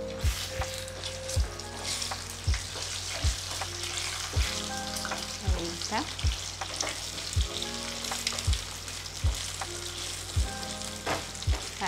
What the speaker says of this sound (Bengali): এবার আমি এগটা একটু ফ্রাই করে নেব।